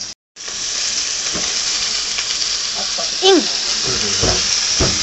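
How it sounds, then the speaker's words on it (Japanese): Garlic frying in olive oil in a pan for a soba pasta dish, a steady close sizzle with occasional stirring scrapes and a brief dropout at the start, a short spoken word near the beginning. "ニンニクを炒めます"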